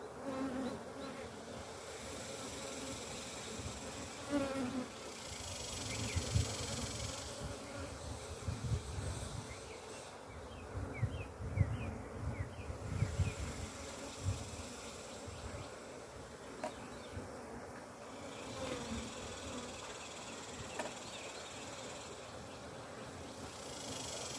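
Honey bees buzz continuously and close by during a colony inspection of a cutout colony removed from a storage shed, a dense, fluctuating hum with louder swells, with no talking.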